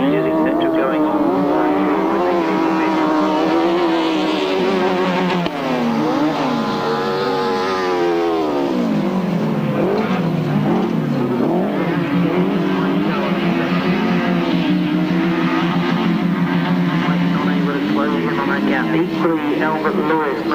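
Grasstrack racing motorcycles roar through a race, engines loud and continuous with rising and falling pitch from gear changes and passing machines, a commentator talking over the noise.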